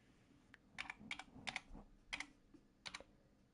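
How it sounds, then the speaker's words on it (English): Quiet, close typing on a home PC keyboard comes in short irregular bursts of crisp key clicks with pauses between, and no voices. "you are hearing me typing on my computer"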